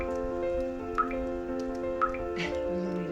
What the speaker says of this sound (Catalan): Només cau aquesta gotinya que veieu.